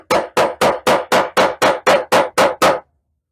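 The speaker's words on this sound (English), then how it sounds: "I'm going to swing the hammer," A hammer drives a nail into a wooden board with ten sharp, evenly spaced strikes in quick succession, each a loud crisp knock that stops abruptly, with no voices.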